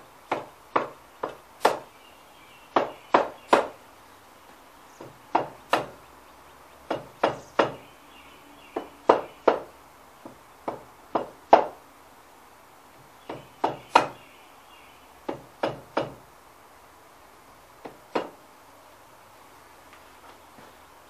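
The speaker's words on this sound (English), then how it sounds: "You need to have a rubber hammer and give this outside casing a tap all around before you try to pull it off." A rubber hammer taps around the outer clutch casing of a Suzuki VS 800 S50 Boulevard, sharp dull knocks in quick irregular clusters of two to four, close and distinct over a quiet background.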